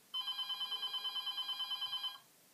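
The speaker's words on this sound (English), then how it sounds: "Phone's going off. Can you hear that?" A telephone rings with a rapid electronic trilling burst, about two seconds of fast regular pulses at a clear, moderate level, then stops, with quiet room tone before and after and no talking.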